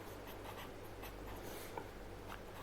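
Pen handwriting accounting journal entries on paper, a steady scratchy scribble of strokes close to the microphone over a low background hum.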